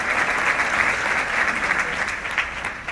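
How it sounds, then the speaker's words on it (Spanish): An audience breaks into loud, sustained applause, dense clapping that holds steady for the full three seconds without pause. "Let's give him another round of applause for putting this."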